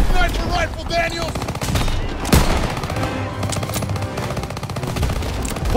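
Call of Duty WW2 combat on the Operation Cobra mission: bursts of automatic gunfire and single sharp shots crackle throughout, with one loud crack standing out in the middle, layered under shouting soldiers and battle noise.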